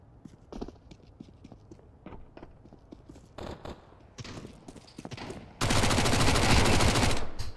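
Gunfire in a video game, aimed at the player's character: sharp, scattered single shots and in-game footsteps, then a loud, sustained burst of rapid fire over the final seconds.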